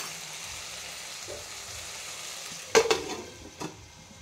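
Tomatoes frying in a pan for a potato and peas gravy, a soft steady sizzle with a couple of sharp spoon or utensil knocks near the end, no voices.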